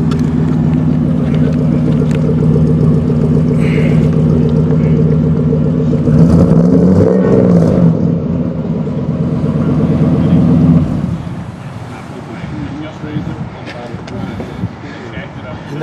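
A custom car's engine rumbles low and steady with its side leg pipes capped, a mellow droning idle that continues for about eleven seconds before dropping off, with people talking over it.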